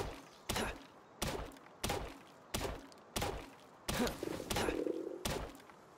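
A weapon strikes a tree to chop wood in Palworld, giving eight hollow wooden thunks at a steady, evenly spaced rhythm, close and distinct, with a slight rustle after one hit and no talk.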